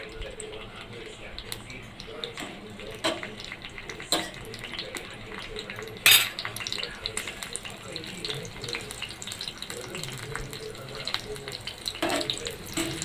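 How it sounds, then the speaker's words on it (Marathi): Two cut green chilies fry in hot oil in a pan: a steady close sizzle with scattered sharp crackles and pops, one louder spit near the middle, and no voices. "तर मिरच्या आपल्या फ्राय करून घ्यायच्या आहे."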